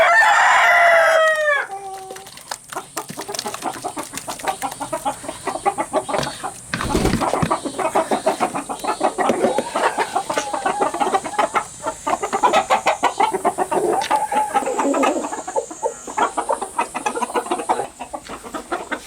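Hens clucking and crowing in a farmyard coop, a bird squawking loudly at the start, then steady clucking and rustling with scattered calls throughout, close and busy.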